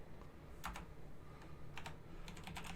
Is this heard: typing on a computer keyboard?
yes